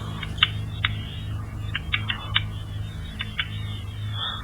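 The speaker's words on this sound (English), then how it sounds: "That's a typewriter, isn't it?" Typewriter keys striking in irregular bursts of sharp clicks over a steady low hum, heard on a theatre stage; strikes are moderately loud and spaced unevenly.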